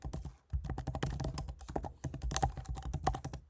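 Rapid keystrokes on a computer keyboard entering an email address into a PayPal payment gateway form in a website builder, a dense, irregular run of close, crisp clicks with no talk.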